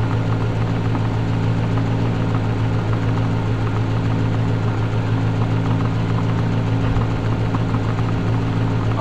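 A car engine idles steadily during a fuel pressure and vacuum test, giving a continuous, even, loud hum with no talking.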